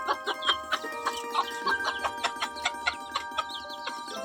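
Chickens cluck steadily at close range while eating rice, with a run of short, repeated calls and one or two louder squawks over a quiet outdoor background.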